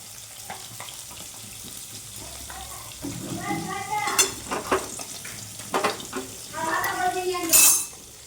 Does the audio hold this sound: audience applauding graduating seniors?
no